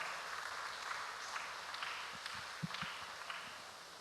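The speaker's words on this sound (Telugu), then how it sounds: "మరొకసారి చప్పట్లు కొడదాం సంతోషంగా" A congregation in the Eluru cathedral claps again for the new rector, Father Paul, at Holy Mass: a continuous, fairly distant patter of many hands with a few sharper claps standing out, heard alone for about four seconds.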